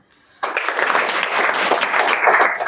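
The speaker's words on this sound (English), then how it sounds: "Clap for him." A class of students claps for a classmate after his marbling science fair presentation, bursting in abruptly after a short silence and holding as a loud, even wash of applause.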